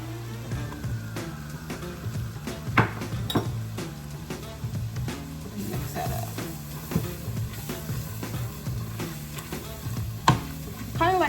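Flour is stirred into clam chowder soup in a pot to make a roux, with steady sizzling and frequent clinks and scrapes of a utensil against the pot, no talk.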